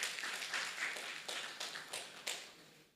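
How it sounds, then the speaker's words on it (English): An audience claps in a round of applause at a filmmaking event, a soft, distant patter of hands in several uneven bursts with no talking over it. "Another round of applause for them, please."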